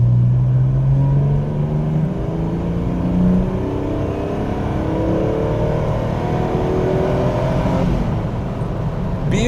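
A Ford Capri 280 Brooklands engine, newly adjusted, revs and accelerates loudly through rising gears, its rumbling note climbing in pitch before a shift and climbing again.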